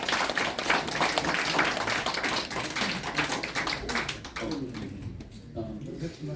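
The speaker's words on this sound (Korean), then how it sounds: "여러분 뜨거운 박수 부탁합니다" Audience at a party merger press conference applauds warmly in dense, rapid clapping that fades after about four seconds into scattered claps, with people talking over it.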